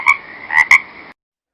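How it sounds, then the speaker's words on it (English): A frog croaks three times in quick succession, loud and close, in a short clean burst that stops into silence. "This is a frog. It croaks."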